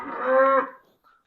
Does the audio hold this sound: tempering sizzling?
no